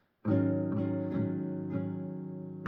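An acoustic guitar chord from a song is strummed and left to ring, with a few lighter strums following, close and clear with no talking.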